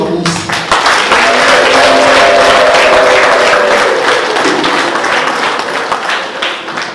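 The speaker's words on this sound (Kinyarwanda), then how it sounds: "dufatikane n'amashyi menshi ndetse n'impundu twakire abatugereye kuri uno munsi" A village crowd at an Umuganura harvest celebration in Gisozi, Rwanda, applauds and ululates to welcome guests: dense, loud clapping with a high wavering ululation rising over it early on, then thinning toward the end.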